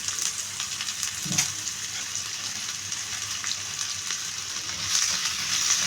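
Mustard seeds, cumin and onion fry in hot oil with a constant close sizzle and faint crackle, and an occasional stirring scrape rises out of it.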